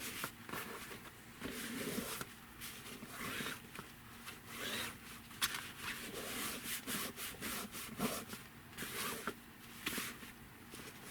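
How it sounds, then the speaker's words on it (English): A bone folder rubs repeatedly over blanket fabric glued onto a journal cover, making faint, close, rhythmic scraping strokes. "we'll get that bone folder going again"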